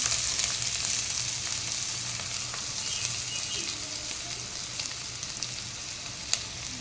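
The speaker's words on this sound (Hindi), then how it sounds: "प्याज को थोड़ी देर फ्राई कर ली मैं।" Chopped onion fries in hot oil with a continuous, moderate sizzle, low background hum and a few soft utensil clicks, no voices.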